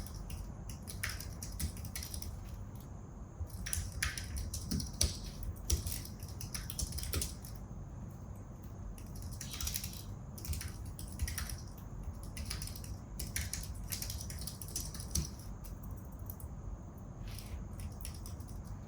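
Rapid typing on a computer keyboard while writing iOS code, with quiet, close key clicks in irregular bursts over a low steady hum, continuing for the whole stretch.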